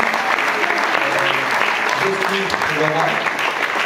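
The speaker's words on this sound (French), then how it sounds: "j'aimerais que vous les applaudissiez tout de même" An audience applauding students at a Rhéto graduation proclamation, steady dense clapping throughout while a voice reads out names over it.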